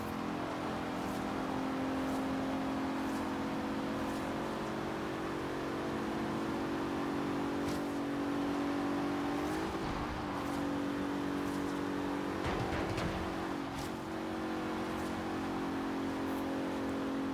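Bentley Continental GT engine at high speed in Forza Horizon 3, a steady loud drone with constant pitch that rises slightly midway, sustained throughout with no pauses.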